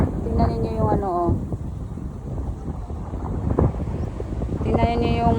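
Gusting wind buffets the microphone in a cold, sunny desert, a steady rough rush that runs throughout with brief voices speaking over it at the start and end.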